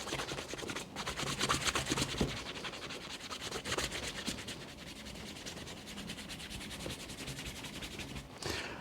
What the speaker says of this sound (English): when you're using the eraser, you try to be as even as possible